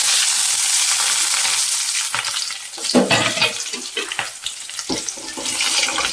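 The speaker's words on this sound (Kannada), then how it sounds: "ಈರುಳ್ಳಿ ಹಾಕ್ಕೊತೀನಿ." Onions go into hot oil with curry leaves, setting off a strong sizzle that dips slightly and then crackles and spits irregularly, with stirring scrapes close by and no speech.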